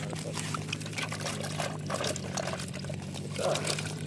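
Water and live catfish, tengra, shing and koi, slosh and splash as they are poured into a bucket, a steady liquid rush with brief splashy bursts, with a low hum underneath.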